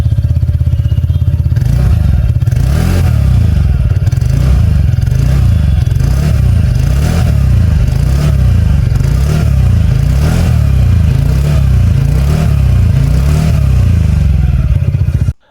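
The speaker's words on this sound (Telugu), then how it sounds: "ఒకసారి మీరు కూడా వినండి ఈ స్కూటీ ఎగ్జాస్ట్ సౌండ్." A TVS NTORQ 125 Race XP Black Edition scooter, 2026 model, idles and revs close by, its exhaust giving a steady, loud engine drone with rhythmic pulsing and repeated throttle swells for about fifteen seconds, with no talk over it.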